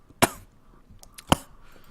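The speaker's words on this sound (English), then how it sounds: "Bit of a cough there for a second." Two sharp, close coughs from a man, about a second apart, over quiet background noise, with faint rustling between them.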